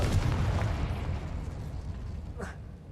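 In the Hogwarts Legacy video game, a Confringo explosive spell sets off a blast: a loud boom fades into rumbling, and a short whooshing burst follows near the end.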